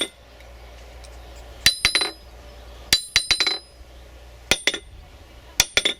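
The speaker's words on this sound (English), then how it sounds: "And if I drop the hammer," Hammer dropped repeatedly onto a new 10 kg cast steel anvil, giving several sharp metallic clinks with bright ringing pings, heard alone in a quiet room.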